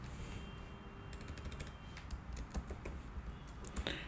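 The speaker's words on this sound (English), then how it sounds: "type the command npx prisma" A computer keyboard clicks under fingers as a command is typed, in quick irregular bursts of keystrokes. The sound is close but faint, a few sharper taps stand out, and no one speaks.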